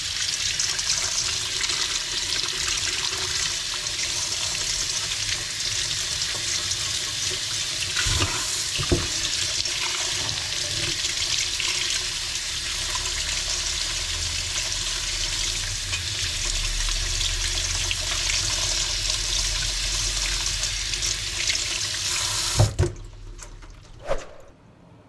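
Fish being rinsed under a running kitchen tap for a stew, a steady close rush of water pouring over them for about twenty-two seconds before it cuts off, followed by a couple of faint clunks.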